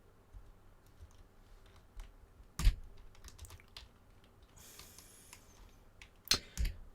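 A computer keyboard is typed on faintly and sporadically at a desk while a game is being programmed, scattered soft key clicks with a couple of louder knocks.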